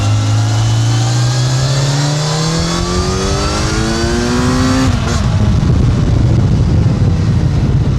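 A Kawasaki Ninja 1100SX motorcycle engine accelerates hard, its loud rising pitch climbing steadily through the gears before a quick shift, then settling into a rough, rumbling drone.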